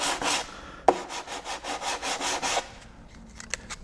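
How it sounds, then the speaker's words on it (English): Rhythmic back-and-forth strokes of 120 grit sandpaper on Bondo filler over a racing shell hole repair, about ten close rasping passes, then a few scattered lighter scrapes. "as you go to 120, you enlarge the area you're sanding"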